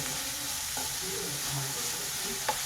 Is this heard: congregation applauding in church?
no